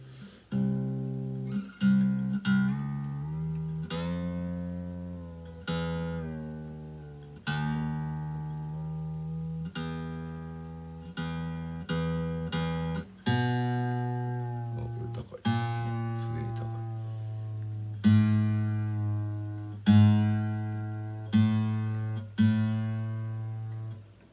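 An acoustic guitar with cheap new Amazon strings is tuned by plucking single strings repeatedly and letting notes ring as pitch shifts, with a few stronger chord-like strums near the end.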